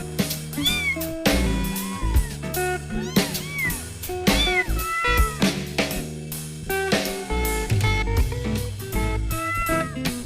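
Pet cats meow at home, repeated close, clear meows following one another steadily with little pause throughout.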